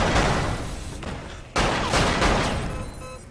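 Rapid, loud gunfire bursts from weapons in the VR shooting game Lethal VR, with dense overlapping shots, a brief gap, then another sustained volley fading slightly.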